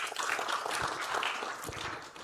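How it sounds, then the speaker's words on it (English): An audience at a forum session applauds, dense sustained clapping from a room full of people, moderately loud and fading toward the end. "let's give him a round of applause"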